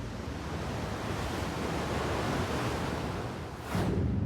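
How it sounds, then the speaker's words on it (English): Steady rushing surf washes in and out, a broad hiss of seawater on the shore with a fresh swell rising near the end; no voices. "We can hear the water moving in and out, can't we?"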